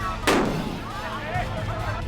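A single sharp firework bang cracks out at a Bihar election victory celebration in the winners' camp, decaying quickly, while a voice talks over the background.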